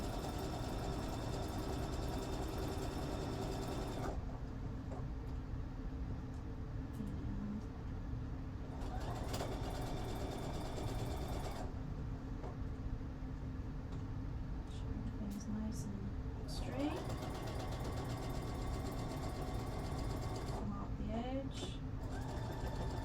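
A sewing machine stitches a shirt pocket in bursts of steady, buzzing, rapid mechanical whirring that start and stop several times at close range over a constant background hum.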